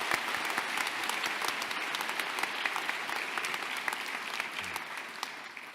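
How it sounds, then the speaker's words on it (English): Sustained applause from a large crowd at a dental school commencement ceremony, dense and steady throughout, fading slightly at the end. "Let's give them a round of applause."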